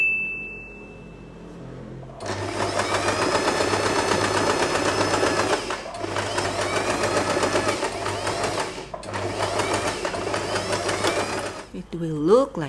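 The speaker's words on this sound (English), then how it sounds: "we are going to sew this part" Sewing machine stitching satin fabric for a long-tailed hair bow, running steadily in three long close bursts with brief stops between them.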